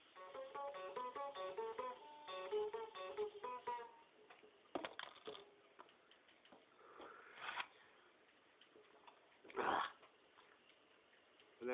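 An electric guitar picks an intro riff as a fast run of distinct notes for a few seconds. Quieter scuffs, taps and a brief louder burst follow in a thin, muffled recording.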